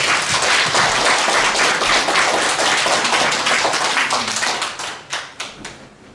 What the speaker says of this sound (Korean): 우리 나오실 때 박수로 환영하도록 하겠습니다